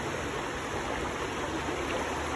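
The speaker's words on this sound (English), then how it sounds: "See how the water's running a little faster?" Fast-running stream water rushes over rocks outdoors in a steady, even, unbroken roar, heard up close with no talking.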